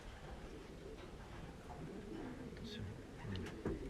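Young racing pigeons in a loft give soft, low cooing calls beneath steady background noise, with a few higher chirps near the end and people talking faintly nearby.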